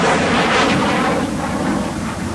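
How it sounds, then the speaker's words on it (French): An airplane passing overhead, its steady broadband roar holding loud throughout and easing slightly toward the end as the pitch shifts with the Doppler effect, with no voices. "Il change selon le fait que l'avion arrive vers nous ou part dans l'autre direction"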